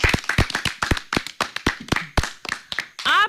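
An audience claps for a child at a children's entertainment gathering: a few seconds of sharp, fairly close hand claps, uneven and sparse as from a small group, ending with a brief higher squeak.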